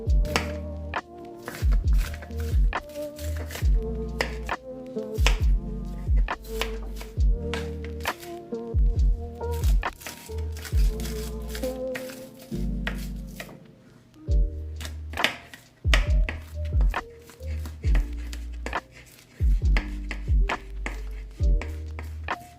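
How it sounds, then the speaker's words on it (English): Onions are cut on a board with a knife, giving repeated firm thunks in uneven bursts, close and clear with brief pauses between runs of chopping. "I just be cutting up some onions right now"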